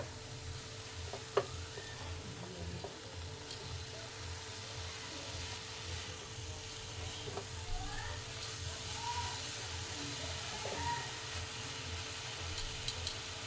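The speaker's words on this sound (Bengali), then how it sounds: "দিয়ে আবারও ভালো করে নাড়িয়ে নেব" Beetroot bhaji cooks in an open pan with salt and a little turmeric while being stirred, giving a soft, low sizzle with occasional faint scrapes and spoon taps, quiet and continuous.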